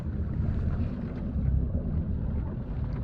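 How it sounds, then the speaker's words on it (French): A boat's motor rumbles low and steady as it is throttled back while passing yellow buoys near a French harbour, a continuous close churn with wind and water hiss over it. "Je vais juste ralentir un petit peu le moteur."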